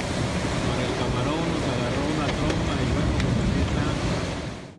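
Rushing floodwater roars across a highway during a storm, a loud, constant wash of churning water and wind buffeting the microphone, sustained throughout with a faint speaking voice underneath.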